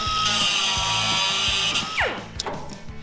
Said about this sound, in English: so I'm just going to die grind that part.